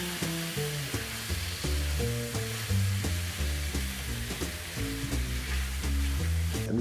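Shrimp and vegetables sauté in a hot pan, a steady close sizzle with rhythmic stirring and scraping running throughout, no talk over it.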